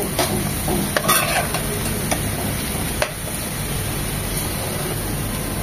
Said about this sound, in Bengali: আরো 1 মিনিট ভেজে নেব পেঁয়াজ আর রসুনের সাথে